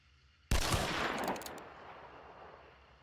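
A single loud rifle report from a Springfield loaded with Dum Dum ammunition in the game Hunt Showdown, a sudden blast followed by a long rumbling tail that fades over a couple of seconds.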